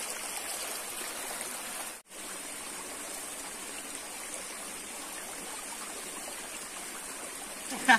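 A flowing mountain stream near a village, its steady broadband rush of water continuing throughout, briefly cut off for an instant before resuming, with no voices over it.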